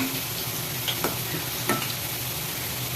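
Onion pakoda deep-frying in hot oil, a steady close sizzle with a few soft scraping touches as the fritters are turned.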